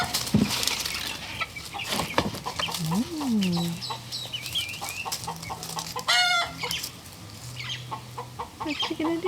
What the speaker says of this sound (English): Hello, little chickies.